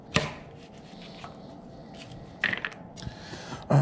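A knife rough-chops butternut squash on a cutting board, giving a few sharp, separate thuds and clacks spaced irregularly, close and fairly loud against a quiet room with no talk.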